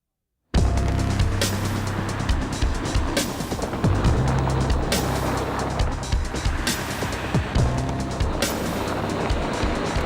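An Audi A4 saloon drives along steadily, a continuous low road and engine rumble with broadband tire and wind noise holding at an even level for the whole stretch, with no voices.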